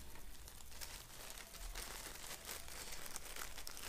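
Soft, continuous crinkling of plastic packaging as fragile HO-scale model railway trees are carefully unwrapped up close, with a low steady hum underneath.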